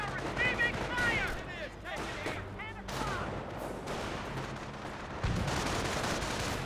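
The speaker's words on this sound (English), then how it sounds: "We are receiving fire!" Bursts of rapid machine-gun and rifle fire crackle through a Company of Heroes battle, mixed with heavier booms and whistling shells, while unit voices shout over the din.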